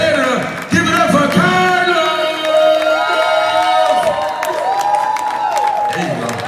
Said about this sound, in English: I need y'all to start clapping right now.